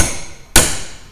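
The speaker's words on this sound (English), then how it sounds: "angle your cat's paw so those claws are going down, and then hit it with your hammer" A hammer strikes a cat's paw pry bar, two sharp metallic blows close up, the first ringing out briefly before the second hit lands at the very end.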